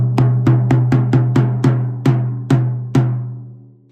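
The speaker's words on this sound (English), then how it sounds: "I'll give you an example of the sound you hear as a" A 14x10 inch Temu snare drum with the wires off is struck like a tom, ten resonant booming hits in an even, slowing rhythm, each ringing out, the last one decaying into silence.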